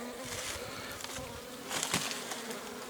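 Honey bees buzzing at a hive, a dense continuous drone of many insects close by, with brief louder swells as bees pass near.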